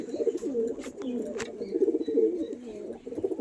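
Soft, rolling coos from pigeons kept as breeding pairs in a home loft, close by and continuous, with no voices over them.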